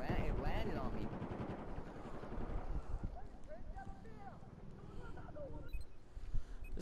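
Rapid gunfire and a helicopter's rotor roar mix in Battlefield 4 combat, loud and dense throughout, with a voice talking over the action.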